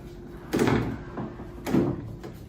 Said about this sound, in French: Mais juste quand on ferme la porte